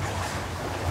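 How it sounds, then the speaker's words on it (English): Water rushing past the hull, heard from inside the aft cabin of a catamaran beating upwind, a steady low, soft wash with a faint hiss, no voices. "You can hear the water, but it's not loud."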